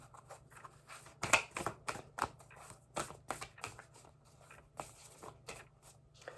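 Moonology oracle cards are shuffled by hand in quick, soft riffling bursts and flicks, close and fairly quiet, in an uneven rhythm with short pauses and no talking.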